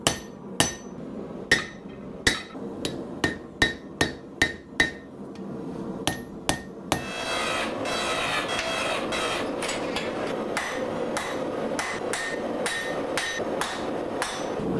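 Sharp, ringing hammer blows strike a leaf spring being forged into a combat axe, a steady series of about a dozen hits, then a loud continuous grinding or machine roar takes over with a few more strikes beneath it.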